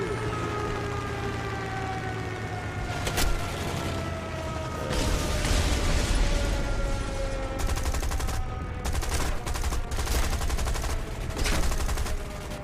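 Machine-gun fire strikes an aircraft in the video game War Thunder, loud rattling bursts of rapid impacts layered over a droning engine whine, with several separate volleys across the stretch.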